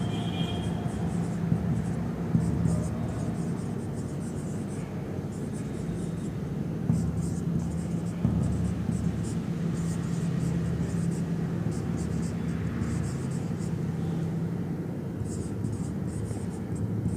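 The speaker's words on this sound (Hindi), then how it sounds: "देखो मैं कुछ वर्ड्स लिखता हूँ।" Pen or chalk writing words by hand during a basic English grammar lesson, a faint steady scratching of strokes in short bursts over a quiet room hiss.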